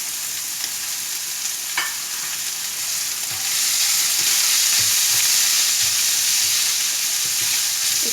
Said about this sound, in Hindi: लहसुन अदरक और प्याज के साथ इसको थोड़ा सा भूनना है।